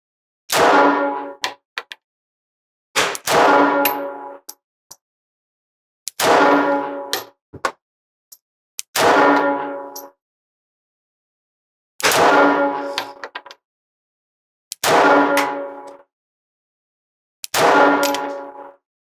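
A Smith & Wesson Bodyguard 2.0 Carry Comp pistol fires 95-grain full metal jacket rounds: seven loud, sharp reports spaced a few seconds apart, each leaving a ringing metallic tail, with silence between shots.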